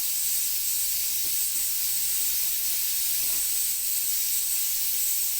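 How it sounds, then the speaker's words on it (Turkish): A steady hiss of steam from a pot of boiling chickpeas, constant and fairly close, with no talking. "Nohutum da burada kaynıyor arkadaşlar."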